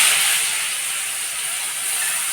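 Curry leaves dropped into hot oil with mustard seeds, shallots and crushed garlic sizzle in a steady, close, bright hiss that stays even and loud throughout, with no voices.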